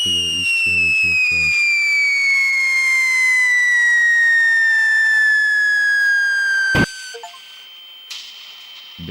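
Fireworks in the game Pyroworks: a long descending whistle of a rocket rising over about seven seconds, preceded by a few sharp crackling pops, then ending in one loud close bang followed by quieter scattered crackle.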